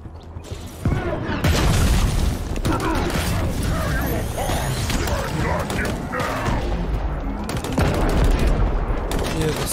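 Heavy, continuous gunfire and booming blasts from Halo Infinite gameplay layered with mechanical clatter, loud and busy from start to finish.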